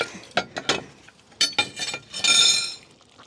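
Jamaican pakasa dish served out of the pot: a few separate metallic clinks and knocks of a utensil against the pot, followed by a longer, brighter scraping clatter, close and fairly loud, with no talking.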